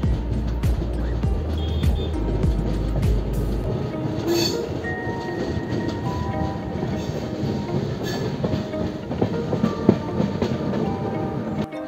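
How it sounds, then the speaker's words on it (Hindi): Jaipur double decker train running on rails from Jaipur toward Kanpur, with a steady rumbling wheel roar and faint clickety-clack through the whole stretch, heard from inside a carriage, an occasional squeal and clunk over the top. "ट्रेन का कर्व"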